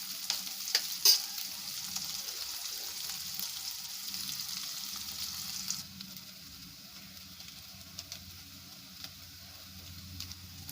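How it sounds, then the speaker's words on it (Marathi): Onions fry in a pan for a simple Malvani-style village dish, giving a steady close sizzle with occasional stirring scrapes that grows slightly quieter partway through. "कांदे लाल होईपर्यंत परतून घेऊया."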